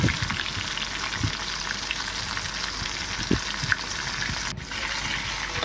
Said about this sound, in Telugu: ఇలా రెండు వైపులా కూడా మనం తిప్పుకుంటూ అవి మొత్తం ఫ్రై అయ్యేలాగా